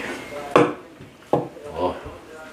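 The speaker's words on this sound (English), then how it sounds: "Now we're going to cut the egg." A cleaver slices through a rolled tamagoyaki egg omelette on a board, three sharp close chops landing unevenly apart, each trailing a brief softer rustle.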